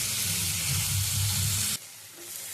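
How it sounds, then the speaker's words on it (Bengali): Loud, steady sizzling of taro stolons frying with salt and turmeric in a pan, close up, cutting off abruptly to a quieter hiss near the end. "লবণ আর হলুদ দিয়ে কচুরলতিটা একটু ভেজে নেব।"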